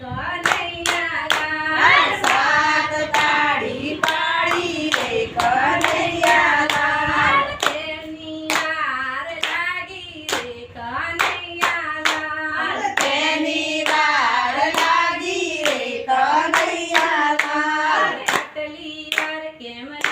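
Women of a devotional group clap their hands in a steady, sharp rhythm while singing a Gujarati bhajan; the claps come loud and evenly spaced throughout, over layered singing voices.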